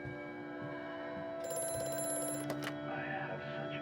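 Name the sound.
telephone ringing in video game Amnesia: A Machine for Pigs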